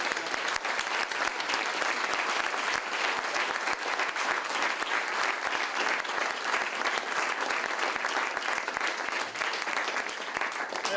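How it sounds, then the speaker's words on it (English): A crowd at a community groundbreaking applauds the kitchen staff with steady, dense clapping that carries on throughout, moderately loud and without talk. "I want to give them another round of applause"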